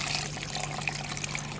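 Running water rinses lab glassware after an acid dilution, a steady splashing tap stream that holds a constant level throughout with no talk.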